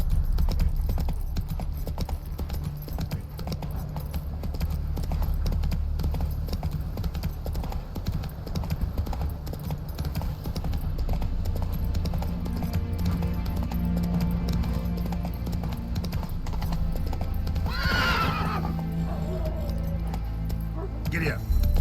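Hooves clip-clop continuously as a horse runs in The Witcher 3: Wild Hunt, with a short whinny near the end, mixed into the game's steady background sound.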